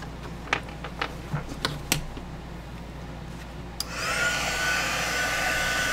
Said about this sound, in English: Let's try, since I've got the heat tool handy.